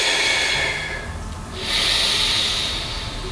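Steady, airy breathing runs through the whole stretch as a Pilates instructor breathes out and in during an exercise, a soft continuous hiss that dips briefly in the middle and then swells again, close to the microphone with no talking.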